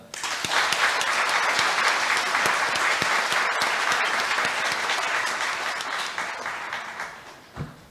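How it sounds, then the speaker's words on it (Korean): Sustained audience applause at a university founding-anniversary ceremony in a large hall, dense steady clapping that carries on for several seconds and then tapers off. "조주환 동무님, 안건찬 동무님께 다시 한번 큰 박수 부탁드립니다"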